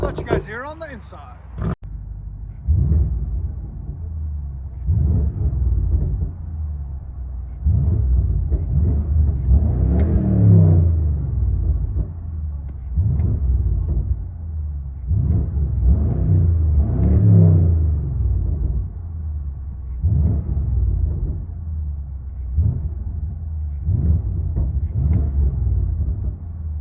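Heard from inside the cabin, a 2015 BMW X6 M with a 4.4L twin-turbo V8 and muffler delete rumbles deeply, its exhaust swelling in repeated revs and surges, with talking over much of it.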